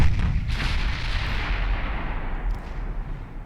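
Warship gun turrets fire in a naval battle in Ultimate Admiral Dreadnoughts, a dense, loud, continuous rumble of heavy booming salvos that runs the whole time with no gaps.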